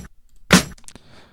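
Snare drum layered with a clap sample in a 2000s-style hip-hop beat: one sharp, bright crack with a short noisy tail, followed by faint, brief clicks, heard alone and fairly quiet.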